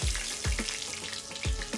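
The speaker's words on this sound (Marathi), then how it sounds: "सगळ्यात पहिले मी टाकला कढीपत्ता आणि मी त्याच्यावरती टाकते आपल्या बोट्या," Kingfish (surmai) pieces go onto a hot pan over curry leaves and set off a close crackle, with several sharp spattering pops in quick succession above a low sizzle. No voices are present.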